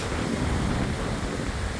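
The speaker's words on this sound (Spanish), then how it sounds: "Pues las olas me bañan los pies." Sea waves washing up on a windy beach in the evening, a steady broadband rush of surf and wind noise with no breaks, fairly faint and without voices.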